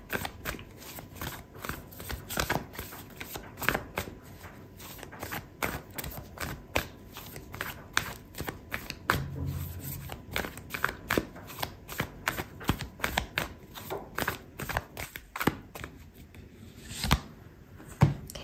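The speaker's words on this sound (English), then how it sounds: "Okay, so I'm gonna pull out an oracle card for you" Oracle cards being shuffled by hand, a steady run of quick riffling and flicking card sounds, close and continuous with no talking.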